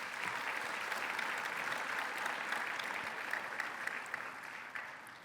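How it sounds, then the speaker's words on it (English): Audience applause for a musician and teacher at a Bharatanatyam performance event: an even, sustained crowd of clapping at moderate volume that tapers a little at the very end, with no voices over it. "Please give him a round of applause."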